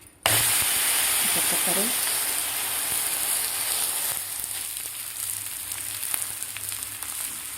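Spinach dhapata flatbread frying in oil on a hot griddle, giving a loud, steady hiss and sizzle that starts abruptly and continues throughout at close range, with a voice speaking briefly over it.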